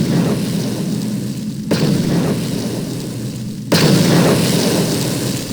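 Two heavy booming explosions in the video game Star Wars: Knights of the Old Republic, each a sudden loud blast followed by sustained rumbling roar, with no voices.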